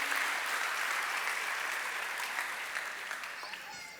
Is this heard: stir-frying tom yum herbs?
no